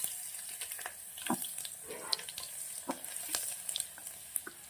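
Crushed garlic hitting hot oil with mustard seeds and asafoetida, a steady close sizzle broken by scattered sharp crackles and pops as the seeds spit in the pan.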